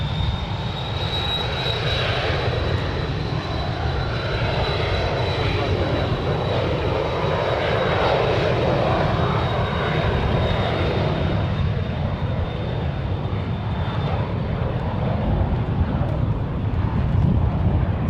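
Airliner taking off from runway 1 right at San Francisco International, a steady loud engine roar with rumble and wind buffeting, plus a high whine that holds and slowly fades.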